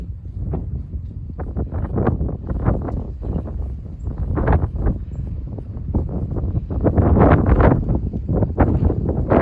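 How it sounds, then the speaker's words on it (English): Gusty wind from an arriving arctic front rolling through Alvarado, Texas, buffeting the microphone in loud, low, uneven bursts that strengthen toward the end. "Hear the wind."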